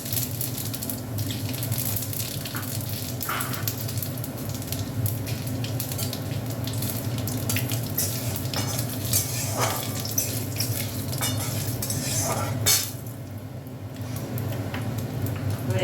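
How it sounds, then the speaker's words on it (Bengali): Four bay leaves, one dried red chilli and a little fennel seed sizzle in hot oil for a lentil dish, a loud, continuous crackling fry with scattered sharp pops and ticks, no talk over it. "এখানে তেজপাতা ফোড়ন দিয়ে দিলাম 4টে, আর শুকনো লঙ্কা দিলাম একটা শুকনো লঙ্কা, আর একটু মৌরি ফোড়ন দিলাম"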